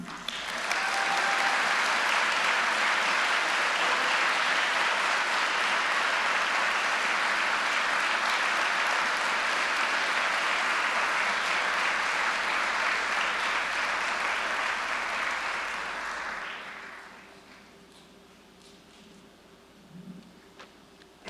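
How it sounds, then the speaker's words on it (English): A large audience claps loudly and steadily for instructors at a South King County Fire Training Consortium graduation, a dense roar of applause lasting about sixteen seconds before fading out, followed by quiet room noise and a brief murmur. "I would love for you to give them a huge round of applause"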